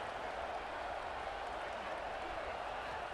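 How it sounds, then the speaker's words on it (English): Stadium crowd noise in the College Football 26 video game, a dense, steady roar from a packed football crowd, continuous and unbroken at even loudness. "this crowd is ready."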